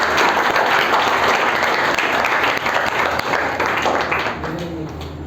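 A large audience at a school gathering for students who have passed out claps loudly and steadily, a dense wall of applause sustained throughout and thinning only slightly toward the end.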